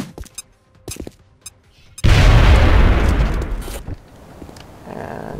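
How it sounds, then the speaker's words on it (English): Frag grenade explosion in XCOM: Enemy Unknown, a sudden loud booming blast after a few quiet clicks, followed by a rumbling roar that tapers over about two seconds. "Toss my grenade."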